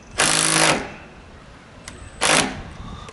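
A power driver with a 6mm bit drives a bolt into a roof rafter on a shingled roof. It gives two short, loud whirring bursts separated by a quiet pause.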